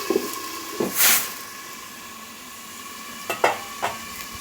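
Gentle hiss of potatoes frying in a pan, with a few scrapes and clinks of a utensil, louder near the start and again near the end.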